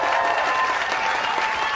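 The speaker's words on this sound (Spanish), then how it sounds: "Les pido un fuerte aplauso, por favor," Audience applause at an evening live music show, a brief burst of clapping from a crowd, loud and even throughout.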